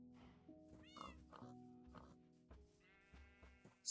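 Several short cat meows in Minecraft, close and distinct, mixed with bleating sheep-like calls over a layered game background hum, ending in a sudden loud burst.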